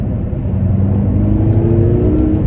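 A BMW M6 F13 heard from inside after a downshift to third gear, the engine droning loud and steady as it revs and the note rises slightly, with heavy low rumble.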